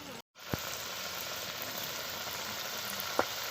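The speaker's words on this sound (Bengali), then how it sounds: "হালকা তেলে এগুলো ভাজতে হবে" Palm nimki dough pieces frying in lightly heated oil, a steady broadband sizzle that holds for several seconds with a couple of sharp pops, close and moderately loud, no voices.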